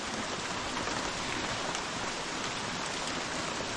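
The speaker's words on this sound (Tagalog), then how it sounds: "grabe po ang ulan" Heavy rain pours down in a dense, steady hiss with no breaks, loud and close, with no voices over it.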